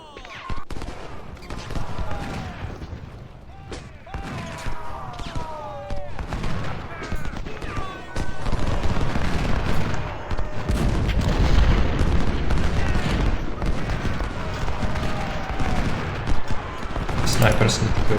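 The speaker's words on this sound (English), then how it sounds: "Snipers keep shooting that" Sniper rifles fire repeatedly in the Civil War strategy game Ultimate General: Civil War, with scattered shots and sharp cracks over a dense battle din and intermittent voices.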